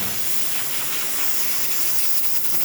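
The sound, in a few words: espresso machine steam wand hissing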